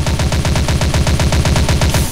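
Video game gunfire aimed at a snow globe, a fast, evenly spaced automatic burst of loud close shots that hammers on steadily before cutting off at the end.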